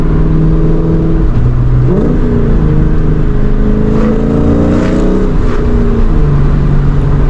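A 2004 Mustang GT V8 with a JLT cold air intake cruising on a highway, a steady loud engine drone that rises and falls with throttle under constant road and wind roar, no talking.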